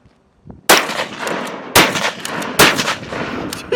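Loud gunshots at an outdoor shooting range, three sharp reports spaced about a second apart with ringing decay, heard on their own.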